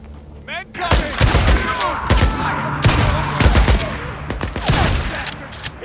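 Gunfire in Days Gone during a marauder camp raid: loud, repeated shots and bursts spaced a second or so apart, with thuds and game ambience underneath.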